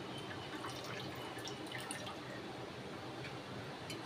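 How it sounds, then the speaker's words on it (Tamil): Lemon juice drips steadily into a dhokla batter mixture, a continuous soft trickle and patter close by that stays fairly quiet and even throughout. "ஒரு லெமன் புழிஞ்சு இதில் ஆட் பண்ணிக்கோங்க."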